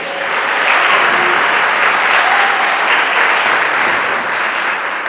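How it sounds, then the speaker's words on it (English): Sustained applause from a town hall audience in Winston-Salem, a dense, steady wash of clapping that stays loud and even for the whole stretch with no voices over it. "I promise I'll make you stop clapping because I know your hands are starting to hurt"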